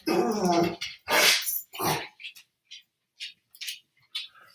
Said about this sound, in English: My dog is freaking out.